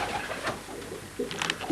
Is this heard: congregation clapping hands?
no